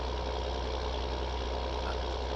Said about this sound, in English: That's a nice sounding engine.